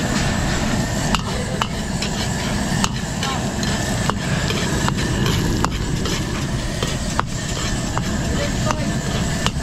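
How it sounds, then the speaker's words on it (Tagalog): Garlic and onion sautéing in a pan in a mobile catering kitchen carried on a boat in Macabebe, Pampanga: a loud, steady sizzle with regular scrapes and clicks of a stirring utensil against the pan. "tostayin lang natin ng konti yung bawang sibuyas para lumabas yung lasa"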